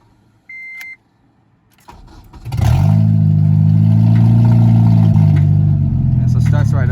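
K-swapped Honda Civic sleeper project engine, running without its mass airflow sensor, cranks and catches after a short beep, then settles into a loud steady idle close by.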